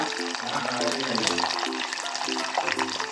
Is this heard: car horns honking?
no